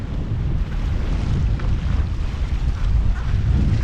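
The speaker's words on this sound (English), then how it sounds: "Not much in it. Mini gusts." Wind gusting past the microphone while windsurfing, a loud low rumbling buffet that swells and eases throughout with no voices.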